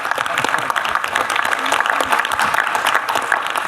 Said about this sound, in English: Can you do a big applause to Alejandra, to Linda, and to my friend Israel?